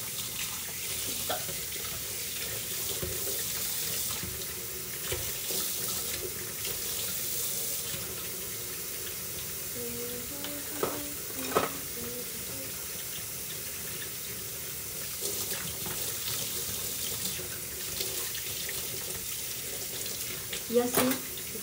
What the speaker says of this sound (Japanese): 水の音。